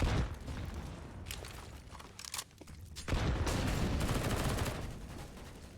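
Bursts of SMG fire in Counter-Strike on the Inferno map, sprayed from a half wall through smoke, crackle in dense, rapid strings, ease off briefly midway, then resume loud and sustained.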